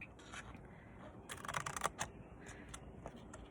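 Paper is snipped with scissors in quick, faint, crisp cuts that come in small clusters, one denser run midway, over a soft background hiss with no talking.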